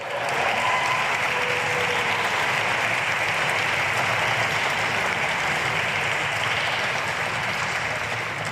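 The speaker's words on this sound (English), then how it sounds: "can we also give a very big round of applause to our incredible jazz band" A big round of applause for a jazz band at a ribbon-cutting event for a community center, dense steady clapping from a sizeable audience that holds at full strength throughout.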